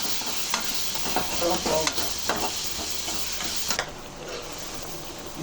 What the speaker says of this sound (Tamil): ஜீரகம், பூண்டு, அப்புறம் பச்சை வாடை போகும். கொஞ்சம் தாளித்து அவியலுக்கு போட போகிறோம்.